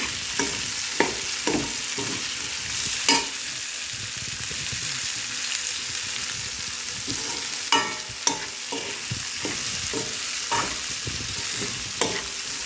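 Lentils frying in a pan for curry, a continuous loud sizzle broken by scraping stirs of a spoon against the pan at irregular intervals, close up with no voices.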